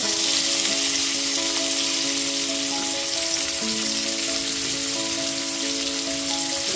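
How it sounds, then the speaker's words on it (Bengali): Chopped onions fry in hot oil and caramelized sugar, a loud, dense, steady sizzle close up, with some faint tonal hum running underneath and no talking. "এরপর এতে দিয়ে দিচ্ছি 4টে মিডিয়াম সাইজের পেঁয়াজ কুচনো।"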